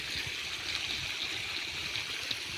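Irrigation water flowing through a pipe to maize roots in a field, a soft continuous trickle and gurgle with a steady hiss, fairly quiet and unbroken by voices.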